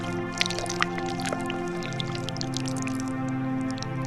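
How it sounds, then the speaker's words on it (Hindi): Cartoon sound effects of water being drawn from a well and drunk: scattered drips and squishy gulps over sustained background music tones. "फिर उन्नति राम उस कुएं से पानी निकालता है और पी लेता है।"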